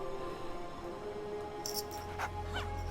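A dog pet card in Magic: The Gathering Arena gives a short whimpering, yipping bark late in the moment, set over a steady hum of game music and low rumble.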